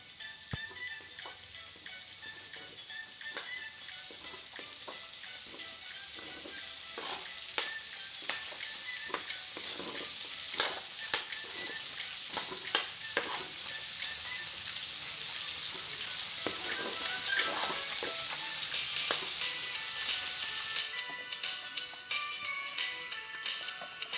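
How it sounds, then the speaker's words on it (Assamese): Onions and potatoes sizzle steadily in a pan with mutton for an Assamese goat curry, a continuous bright frying hiss dotted with small pops and stirring ticks, close and even throughout with no talking. "মই কাটি লোৱা পিঁয়াজ আৰু আলুখিনি দি অলপমান ভালদৰে ভাজি ল'ম"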